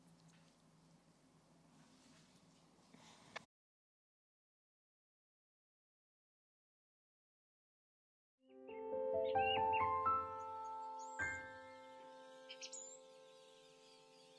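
A homemade robot chicken toy squawks with a burst of rising electronic tones and warbling notes after a stretch of silence, preceded by some handling noise.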